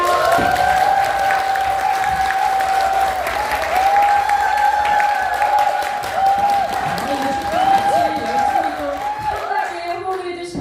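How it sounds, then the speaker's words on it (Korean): An audience at a Korean business information session gives loud, sustained applause mixed with some cheering, accompanied by a steady musical tone playing over the clapping throughout. "본격적으로 2024 슬리밍고 비전 창업 창직 설명회를 여러분의 큰 박수와 함께 시작하도록 하겠습니다."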